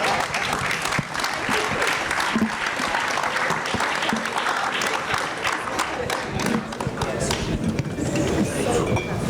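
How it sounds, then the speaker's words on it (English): An audience at a business and investment forum in New York applauds panelists, sustained dense clapping from a large room, loud and close, with an announcer's voice over it. "Let us give them another round of applause"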